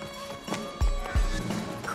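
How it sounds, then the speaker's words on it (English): Horses in the Western video game Desperados III give heavy hoof thuds and clip-clops, with a neigh, sounding close and fairly loud against a quiet ambient game backdrop. "Christ, I hate horses."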